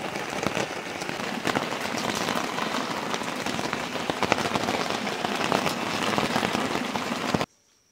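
Heavy rain pours steadily at a riverside fishing camp on the Teles Pires river, a dense close hiss with scattered drop impacts, then it cuts off abruptly near the end.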